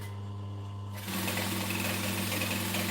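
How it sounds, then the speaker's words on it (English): After a second of faint hum, a sewing machine set to a 2.5 stitch length starts stitching a handbag pocket, running as a fast continuous whirring rattle, close and steady to the end. "Then I'm just going to stitch the pocket back up again."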